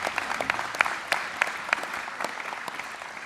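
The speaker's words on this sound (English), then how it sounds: "Give yourselves a round of applause." Graduation audience applauding at an MBA ceremony, a steady, moderately distant patter of many hands clapping, with a few sharper claps standing out.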